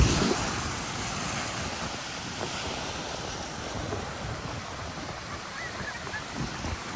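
Ocean waves at a beach in Guam roll in with a steady broadband wash and some wind noise, fairly close and continuous, no voices evident.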